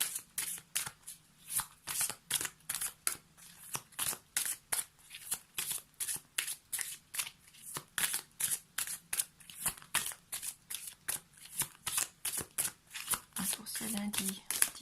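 Tarot cards shuffled by hand ahead of a card reading, a quick steady run of crisp riffling snaps repeating for the whole stretch, close and fairly quiet.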